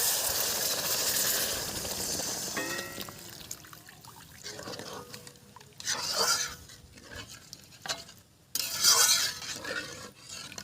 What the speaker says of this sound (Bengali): এই মশলা ভাজা হয়ে গেছে নারকেলের দুধ ঢেলে দিচ্ছি